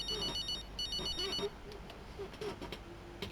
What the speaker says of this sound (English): we do have a little phone call to answer